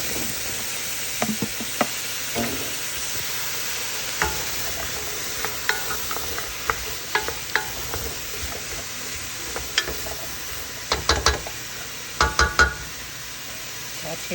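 Mushrooms, kale and celery saute in a pan with a continuous sizzle, punctuated by scattered utensil taps and scraping knocks that cluster near the end.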